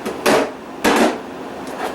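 A meat hammer is set down on a kitchen counter, giving two sharp, close knocks about half a second apart, with a fainter tap near the end.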